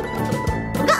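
A singing voice in a Russian children's cartoon song imitates a dog's bark with a short musical 'woof-woof' over a light backing tune.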